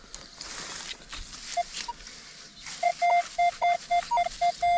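Metal detector sweeps over a buried silver coin at an abandoned outback sports ground, repeating sharp pulsing beeps in a quick rhythm over faint scraping and outdoor noise.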